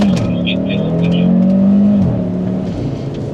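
Cupra Formentor VZ5 five-cylinder, 390 hp, pulls hard on closed roads, a loud close engine note rising then dropping in pitch as it shifts, with a voice over it.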